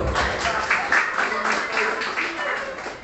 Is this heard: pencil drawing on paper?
no